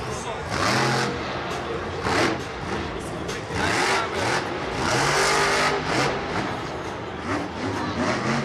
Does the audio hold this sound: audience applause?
no